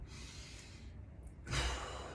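Breathing during a qigong routine: a long, soft exhale fades, then after a brief pause a stronger, louder breath rushes in close to the microphone.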